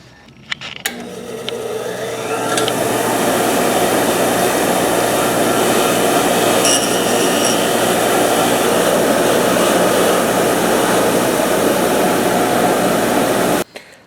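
Brake cleaner hisses from an aerosol can onto brake parts, a loud, close, continuous spray lasting over ten seconds after a few short clicks, then cutting off abruptly.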